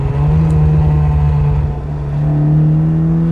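A Fiat 124 engine revs hard through a downshift, a loud, steady mechanical drone that dips briefly and then climbs back to a higher pitch, close and without talk.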